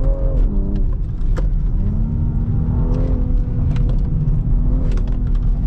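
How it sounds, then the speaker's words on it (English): A tuned 2020 BMW X3M Competition with a stage 1 tune, running an ethanol blend, pulls hard from inside the cabin, its engine note climbing steadily through the gears with a constant low road rumble underneath. "All right, let's take it out for a drive and see what it's like."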